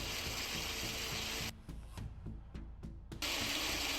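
A drill bit working into the center-punch start on a steel AK rifle trunnion, fed level and slow: a steady loud grinding whir that dips into a quieter, scratchier cutting stretch with brief squeaks before the full drone returns.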